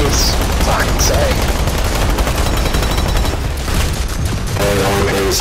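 Heavy automatic gunfire from the online shooter game PlanetSide 2 rattles continuously in a thick, loud barrage of rapid shots mixed with battle noise, with a voice speaking briefly over the chaos.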